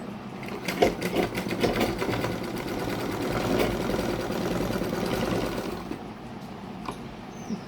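A sewing machine stitches an unlined katori blouse, running in a fast, steady mechanical whir up close for about six seconds before slowing and stopping.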